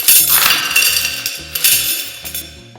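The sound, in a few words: coins clinking down a drain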